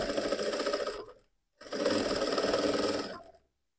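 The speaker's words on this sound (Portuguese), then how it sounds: "tô virando pra cá, tô costurando com a dobrinha aqui em cima." Sewing machine stitching a seam on a fabric bear backpack, a close, loud, rapid mechanical chatter in two bursts separated by a brief pause of silence.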